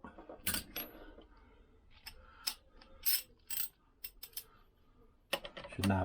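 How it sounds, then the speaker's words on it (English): Close metallic clicks and ratcheting from a bolt being tightened on a Lambretta engine during a rebuild, coming in irregular bursts with brief pauses, fairly faint overall and free of talk. "Doing up that bolt."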